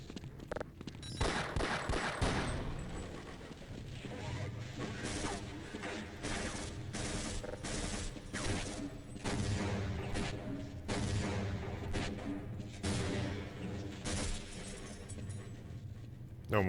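Rapid bursts of gunfire from weapons in Half-Life, loud, dense volleys of shots and clattering impacts repeating throughout, with some voice underneath.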